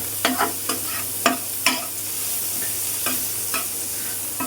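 Water taro (pani kochu) is sautéed in a pan, with a low frying sizzle beneath a series of sharp, irregular spatula scrapes and knocks, close and clear with no talking.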